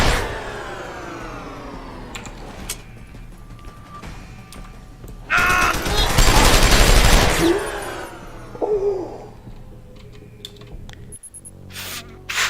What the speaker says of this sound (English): Fricking heavy assault rifle.